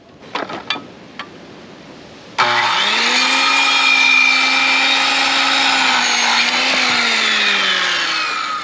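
A power tool bites into a milled cedar board for raised garden beds, a loud steady whine that holds for about six seconds after a few small knocks and clicks, close by and with no talk.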